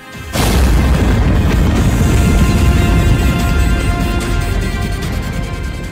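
A bomb or missile explosion from war footage in Ukraine hits with a sudden loud boom, followed by a long, dense roaring rumble that slowly fades over several seconds.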